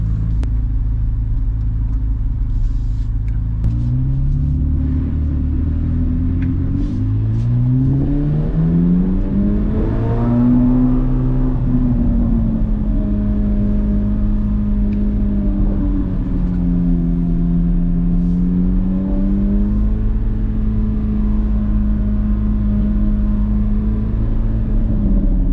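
A Chevrolet Corvette C8 Z06 accelerating on a short drive, its engine loud and close, rising in pitch through the gears with shifts and steady rumbling cruise between pulls.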